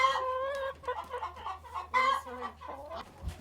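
Egg-laying chickens on a farm cluck and call in a run of short, harmonic vocalizations, fairly close, with a low steady hum underneath.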